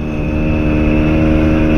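A 1952 BSA three-speed motorcycle engine running in top gear, a loud steady drone held close for the whole stretch with no talking.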